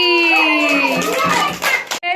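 Children clap their hands during a playful blowing game, a quick cluster of claps following a sustained high voice-like tone, with young voices around them.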